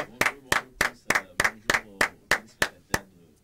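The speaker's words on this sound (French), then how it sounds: "faites maximum d'ovations pour notre invité Elgod" A studio guest on the Café Soleil programme is greeted with about a dozen sharp, evenly spaced claps, close and distinct, alone without talk.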